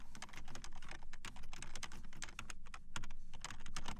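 Someone types a discussion topic on a computer keyboard: a quick, steady run of close keystrokes with short pauses, and no one speaking.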